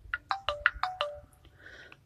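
A Jio Phone plays its startup tune while powering on, a short run of bright, evenly spaced electronic chime notes followed by a softer trailing shimmer, close and clear with no talk.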